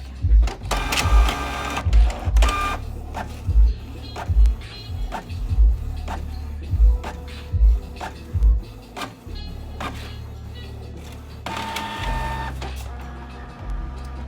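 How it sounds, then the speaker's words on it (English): A Canon Pixma TR4522 inkjet printer runs a nozzle check, with repeated mechanical thumps, whirring carriage passes and motor buzzes in an irregular rhythm, close and fairly loud, with a brief voice here and there. "Let's go and do a nozzle check."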